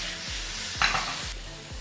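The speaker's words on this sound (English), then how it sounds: "As you can hear the sizzle already." Vegetables sauté in a hot frying pan, giving a steady close sizzle with a few stirring scrapes and knocks along the way.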